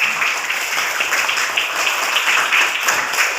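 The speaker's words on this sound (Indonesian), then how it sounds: "Tepuk tangan untuk Bu Rina" A primary school class gives steady, bright applause for their teacher, a continuous patter of many small hands clapping together for several seconds.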